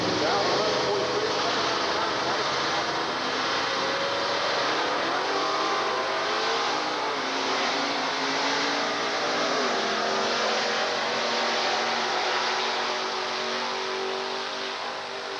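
A purple 1957 Chevrolet drag car at the 1990 Division 4 finals, Texas Motorplex, accelerating down the strip: a loud, continuous broadband engine roar that holds steady throughout with only slight swells.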